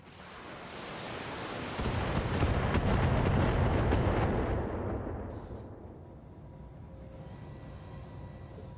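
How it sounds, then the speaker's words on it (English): Mechs trade heavy missile fire in the Battletech 3025 video game: dense, rumbling volleys of rapid launches and blasts build to a loud peak, then fade into a softer roaring wash. "So a lot of missiles between these two mechs."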